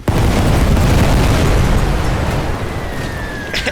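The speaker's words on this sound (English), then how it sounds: "Throw hand grenades on that bastard." Hand grenades burst in The Great War video game, a dense, loud rumbling roar of overlapping explosions that fills the clip and fades slightly toward the end.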